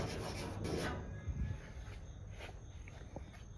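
Steady abrasive rubbing and rasping as the metal door panel of a 1976 Suburban is sanded, continuous and fairly close, with no voices.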